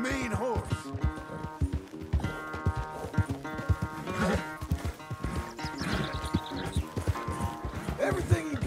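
Horse hooves clip-clopping at a gallop in Red Dead Redemption 2, a steady rhythmic thudding close by under busy game music and a voice urging the horse on.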